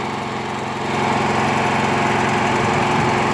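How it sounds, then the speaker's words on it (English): A backup generator engine runs steadily in a garage, a loud continuous mechanical drone that rises slightly in level after the first second and then holds constant, with no talking. "It's just good to have a generator that always fires up."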